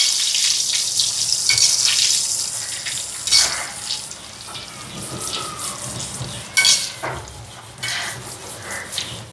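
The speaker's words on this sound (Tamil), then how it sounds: "மோர் மிளகாய் பொரிச்சு எடுப்போம்." Buttermilk chillies (mor milagai) frying in hot oil, a steady loud sizzle with bursts of crackle and occasional stirring clinks of a utensil against the pan, no voices.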